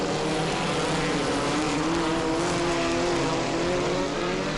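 Several dirt midget race cars roar steadily around the track, a dense wall of engine noise with shifting pitch as they race, loud and continuous with no pauses.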